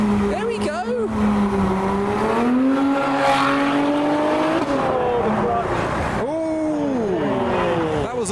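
A car launching hard away from a car show, engine revving loudly with shifting pitch and tyre noise, while excited voices shout over it.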